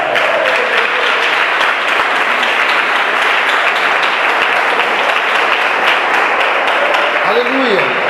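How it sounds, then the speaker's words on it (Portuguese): A church congregation applauding loudly, a dense, sustained wash of clapping throughout with a voice briefly audible near the end. "dá uma salva de palmas bem forte"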